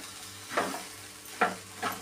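Onion sautéed with a handful of coriander and green chillies in a pan, heard as three soft scraping stirs over a faint low sizzle, close and quiet with nobody talking.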